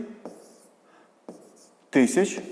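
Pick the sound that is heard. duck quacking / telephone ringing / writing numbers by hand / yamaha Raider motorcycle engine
writing numbers by hand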